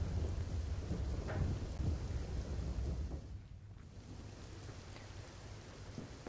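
Light rain falls in Bhavnagar with rolling thunder, a loud low rumble in the first seconds that fades into a steady wash of rain.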